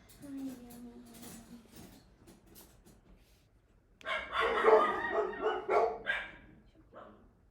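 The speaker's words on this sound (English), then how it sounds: "Baxter, it has the most annoying bark in the entire world." A small dog yips and barks in quick, sharp bursts indoors, fairly close, after a stretch of quieter background sounds.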